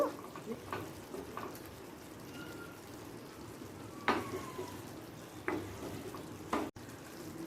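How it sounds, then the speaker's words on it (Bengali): Sugar being stirred into a doi potol curry of pointed gourd with mustard paste, a few soft scrapes and faint sizzles against a steady low simmer, close and quiet with a brief clink near the end. "চিনিটাকে মিশিয়ে দেব"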